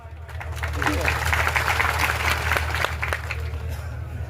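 Crowd at a tribal rally for a Bhil state claps steadily, a broad wash of applause with low rumbling hum underneath, loud and sustained throughout.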